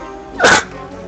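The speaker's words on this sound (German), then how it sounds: "Ah, ich muss mal niesen." One short, sharp sneeze bursts out close to the microphone amid quiet background sound.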